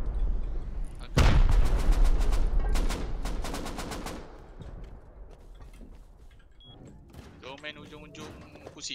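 Rapid bursts of gunfire and a heavy blast in the survival game Rust, loud at first with a dense volley, then thinning to scattered distant shots under players talking.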